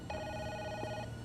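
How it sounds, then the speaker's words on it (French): A telephone rings once with a bright, steady electronic bell tone lasting about a second, fairly loud and alone against a quiet room background. "Va décrocher le téléphone."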